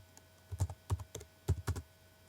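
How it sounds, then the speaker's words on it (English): Several quick keystrokes tapped on a computer keyboard while entering a place name into a data field, clicking in small clustered bursts, close and fairly quiet, with no talking. "all you have to do is type in a comma"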